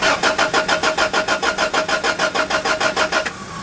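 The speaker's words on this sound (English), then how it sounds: "I'm gonna try to crank it again." Honda Civic engine cranking without catching, a loud close starter churn with a fast even rhythm of about twenty pulses, then cutting off abruptly.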